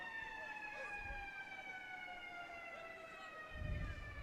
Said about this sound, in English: You hear the sirens in the distance.